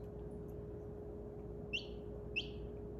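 Two faint, high chirps from a chick still inside its egg sound a moment apart over a steady low hum, thin and slightly muffled.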